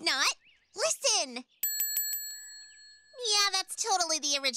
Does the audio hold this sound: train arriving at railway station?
no